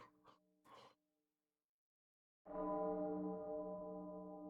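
A London church bell struck once, a loud sustained ringing tone that rises suddenly after a short silence and slowly decays; brief breathy vocal sounds come before it.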